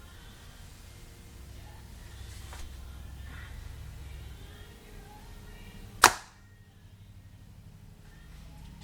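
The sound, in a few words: Hoyt RX-4 bow shooting a 578 grain arrow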